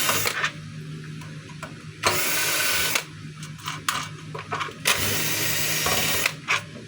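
A DeWalt cut-off machine being taken apart for repair, its field housing unscrewed, gives repeated bursts of harsh whirring from a power driver, separated by clinks and handling knocks of metal parts up close.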